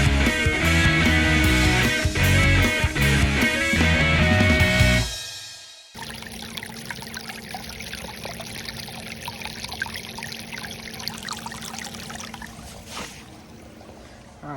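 Water flushes through a yard channel drain into a catch basin. A loud rushing gush cuts off abruptly, followed by a quieter, steady trickle and flow.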